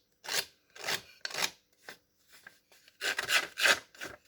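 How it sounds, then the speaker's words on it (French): Scrapbook paper edge distressed with a rubbing tool for a vintage look, producing a series of short, close, raspy scraping strokes in an uneven rhythm, some grouped together. "Mais, je vais abîmer mon papier"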